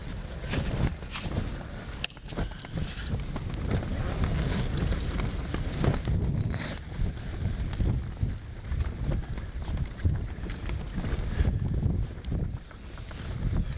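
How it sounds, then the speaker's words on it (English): Steady wind gusting and buffeting the microphone outdoors, a broad roaring rush that swells and dips throughout with no voices. "It's windy out there."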